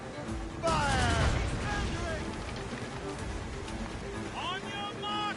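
Ship cannons fire in a naval battle in Assassin's Creed Rogue, a loud burst of booming shots landing together, then rumbling battle noise beneath shouted commands.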